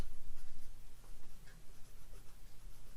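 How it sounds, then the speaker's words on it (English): Pen writing on cardstock, soft close scratchy strokes in short bursts over a quiet room. "So I'm going to write photo mat."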